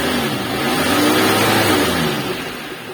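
A repaired car engine with a new radiator water inlet idles and revs smoothly close by, a steady mid-pitched hum that swells and then eases off, with no talking.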